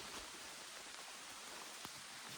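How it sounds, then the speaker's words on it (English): Steady rain falls in a wet outdoor setting at Kenai Fjords National Park in Alaska, a constant hiss of drops on surfaces with a few louder individual splashes. "It's raining."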